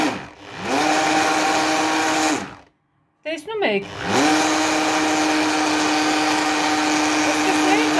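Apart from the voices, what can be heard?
immersion blender running while making homemade mayonnaise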